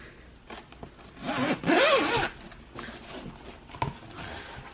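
The zipper of a Sony WH-1000XM3 headphone case is pulled open close by in a few quick rasping strokes, with one longer, louder pull in the middle.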